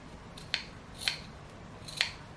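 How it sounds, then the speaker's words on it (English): Scissors make three crisp snips into fabric seam allowance on a dress being sewn, spaced about half a second apart, close and isolated over quiet room tone. "So just snip it a little bit like so, so that it can relax very well."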